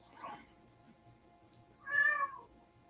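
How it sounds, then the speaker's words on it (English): A house cat meows twice, a short faint call near the start and a clearer, louder harmonic meow a moment later, set behind a quiet indoor room with no talking. "Got my cat in the background."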